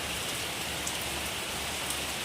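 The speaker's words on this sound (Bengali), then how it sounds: "প্রচণ্ড পরিমাণে বৃষ্টি হচ্ছে" Heavy rain pours down in a dense, continuous hiss of drops striking surfaces nearby, steady and unbroken with no voices.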